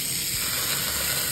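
A large beef flank hamburger patty sizzles in a big pan, a loud, steady, bright hiss of frying fat that carries evenly through the brief moment with no talking.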